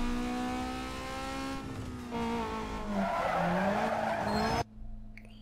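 A Fiat drifting in Need for Speed Most Wanted lets out a long, loud tire squeal over a whining, revving engine, with the pitch bending as it slides before the sound cuts off sharply near the end.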